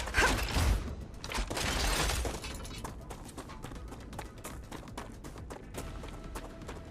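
Gun magazines being changed during a video game reload: a burst of mechanical clicks and clacks at the start, then quieter rattles and faint handling noises.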